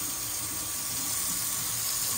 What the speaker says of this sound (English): I let my tap water get as hot as possible.